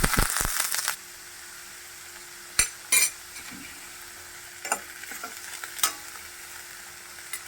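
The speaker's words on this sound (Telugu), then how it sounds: "ఉల్లిపాయలు వేద్దాం అలాగే పచ్చిమిర్చి" Onions and green chillies frying in a pan for a spinach and coconut fry, a loud sizzle at the start that fades to a quiet bed, broken by a few sharp utensil scrapes and clinks.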